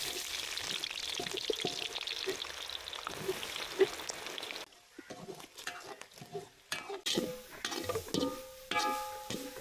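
Small shallots frying in hot oil, soft crackling and sputtering at low level, with light stirring scrapes and a brief quieter gap midway.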